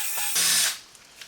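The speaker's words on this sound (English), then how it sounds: "So the first thing I got to do is drill a hole to the outside" A drill bit slightly larger than a copper wire bores a hole through to the outside, giving a loud grinding whir that cuts off after about a second, then a faint tick or two.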